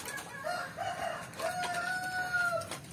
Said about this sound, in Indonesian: Ayam malas hijau.